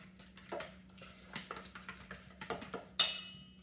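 Dipping sauce stirred in a bowl, a run of light scraping and clinking taps from a utensil against the side, irregular and close, ending in a sharper knock.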